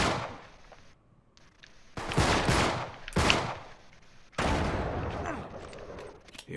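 Gunfire rips through a firefight in the video game Uncharted, with loud close bursts of several shots separated by brief lulls, ending in a long sustained volley.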